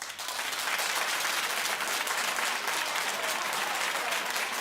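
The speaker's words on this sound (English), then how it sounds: "Clap if you don't mind your man holding your bag." A television studio audience claps in response to a poll question, producing dense, sustained applause throughout without any talking.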